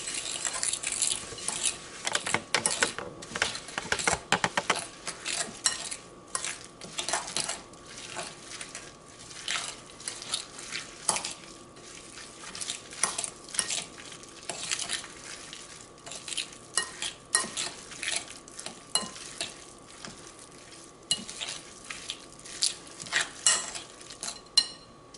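Bowl of breakfast cookie dough with blueberries and almonds being stirred by hand with a utensil, giving steady close scraping and clicking strokes against the bowl, with no talking.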